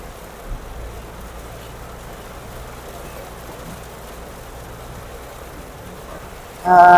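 Heavy rain patters on a moving car in a continuous wash during a thunderstorm, with a faint rumble beneath, before a voice begins speaking at the very end.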